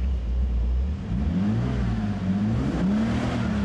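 A 2005 Bentley facelift with a W12 engine revs steadily, its deep engine tone rising and falling in continuous rumbling waves, loud and close with no voices.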